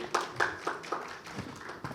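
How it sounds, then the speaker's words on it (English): Audience clapping for a moderator being introduced on stage at a corporate fraud panel session, a sparse, uneven patter of hands from a modest crowd with distinct individual claps rather than a full roar. "Please have a huge round of applause, everyone."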